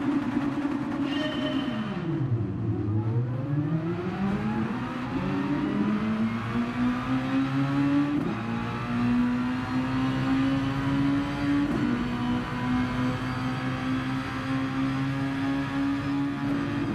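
Race cars in the Gran Turismo Sport First Nations Championship race start, engines revving hard and rising in pitch with gear changes, a loud continuous roar of several cars accelerating together.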